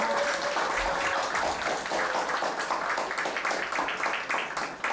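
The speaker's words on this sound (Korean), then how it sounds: "조동희님께 다시 한번 큰 박수 부탁드립니다" Audience applause at a book launch event in Jongno, Seoul fills the room as steady, dense clapping throughout, fairly close with no voices rising above it.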